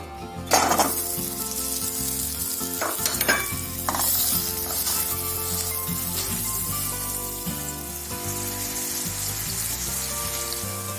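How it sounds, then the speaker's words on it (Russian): Steady frying sizzle of carrots and onions in a pan, with occasional clinks and scrapes of stirring; background music plays throughout. "5 минут обжаривали морковку с луком,"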